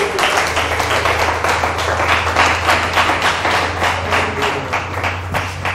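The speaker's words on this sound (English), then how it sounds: "Let us clap unto Jesus Christ" A church congregation claps together in worship, loud rhythmic unison hand claps repeating at a brisk steady beat over a low sustained hum, close and energetic throughout.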